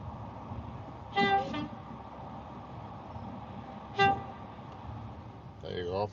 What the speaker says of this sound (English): That was the class 37 honking